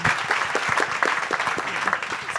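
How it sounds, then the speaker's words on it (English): Audience applause at a software testing conference in Chicago, a dense burst of clapping from a room full of people, steady and moderately loud with no speech. "And again, a huge round of applause for Andrew and Ashley to make that happen."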